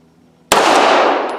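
A single sharp gunshot from a Girsan Regard MC 9mm pistol, a Beretta 92FS clone, fired outdoors at targets; one loud crack after quiet, with a brief ringing tail.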